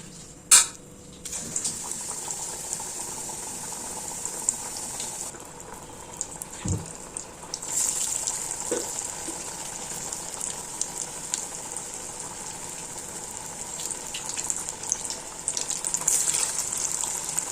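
Banana flower vada sizzling in hot oil in a pan, a steady bubbling hiss running throughout with a few brief clicks and knocks, close and fairly even in loudness.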